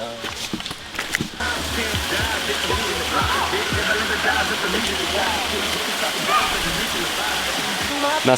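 A waterfall on Koh Kood island, Thailand, pours with a steady broadband roar and splash, loud and near, after a brief opening of mixed noise, with a person talking over it at times.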